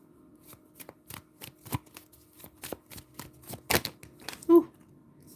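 Tarot cards being shuffled by hand, a series of crisp riffling bursts and soft slaps in an uneven rhythm, close and fairly quiet, with a slightly louder flutter near the end.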